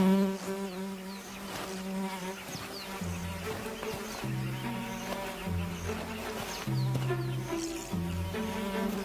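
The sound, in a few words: tsetse fly buzzing around a lion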